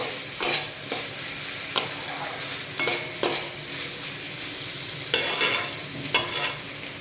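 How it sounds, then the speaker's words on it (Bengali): Potatoes stir-fried with spices in a pan: a low steady sizzle broken by repeated sharp scrapes and knocks of a spatula at an irregular pace, close and moderately loud, with no talking. "মশলার সঙ্গে এই আলুটা আমরা এখন কষিয়ে নেব।"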